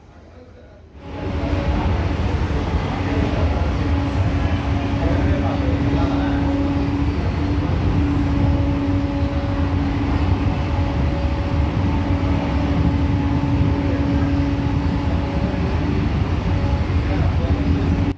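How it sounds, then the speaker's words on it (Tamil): An air-conditioned suburban electric local train in Chennai rumbles along at a steady normal speed, its loud, continuous roar and droning hum holding for the whole stretch after a sudden start. "இந்த ட்ரெயின் கிண்டி வரைக்கும் நார்மல் ஸ்பீடில் தான் போச்சு"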